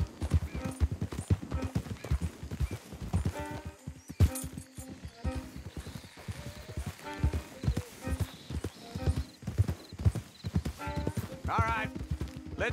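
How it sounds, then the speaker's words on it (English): Horses clop along in the Red Dead Redemption 2 video game, a steady, close rhythm of hoofbeats with an occasional whinny, running beneath ongoing speech. "Don't want the horses clopping around outside the window."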